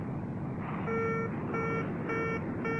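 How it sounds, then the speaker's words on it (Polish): Repeating electronic beeps of the landing gear warning alarm in a Concorde cockpit in the FlightGear flight simulator, sounding in short regular bursts over a steady loud cockpit rumble. "tu mieliśmy alarm"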